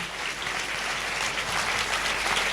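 A church congregation at a Sunday service claps together in a sustained, dense burst of applause that fills the room at a steady level without pause.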